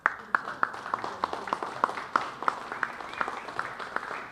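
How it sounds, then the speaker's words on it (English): A forum audience gives a steady round of applause for a speaker, with regular distinct claps standing out over a soft wash of clapping, fairly quiet and somewhat distant. "let's thank Ted Gunderson one more time with a round of applause"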